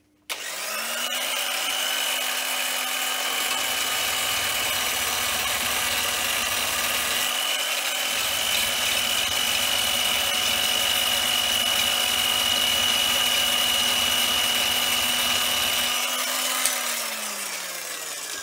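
Power scraper working the underside of a Kingway HKA36, a steady buzzing drone with a high whine that runs for about fifteen seconds with short pauses in the rasp, then winds down, close and with no voices.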